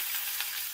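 Curry leaves, cumin and mustard seeds hit hot oil in a wok, giving a brief, steady crackling sizzle with no talking.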